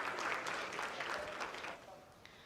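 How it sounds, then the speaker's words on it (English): A crowd of people claps in steady applause that fades slightly toward the end, heard fairly faintly. "Oh, they're clapping something."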